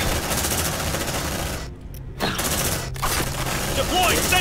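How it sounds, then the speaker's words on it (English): An automated sentry gun turret in the video game Aliens: Dark Descent fires in loud rapid bursts with mechanical clatter, broken by a brief quiet gap before the fire resumes, with a voice speaking over parts of it. "Sentry activated."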